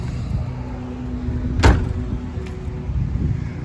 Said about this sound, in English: Door's shut good.